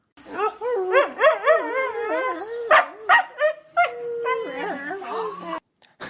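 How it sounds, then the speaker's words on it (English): A husky whines and whimpers in drawn-out, rising and falling cries, with a few sharp barks mixed in, loud and close throughout. "Barbara and I have 2 dogs, Luna, a husky, and Quinny, a Shih Tzu mix"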